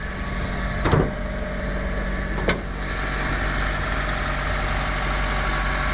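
A Daihatsu Mira engine idles steadily with a faint, continuous high-pitched squeal from loose engine belts riding over the hum, broken by two sharp clicks or knocks early on; no one speaks.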